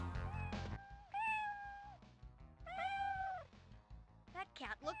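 A cat meows repeatedly in the PC game Jimmy Neutron Boy Genius, several drawn-out, rising-and-falling meows spaced across a few seconds over game music and effects, fairly close and clear.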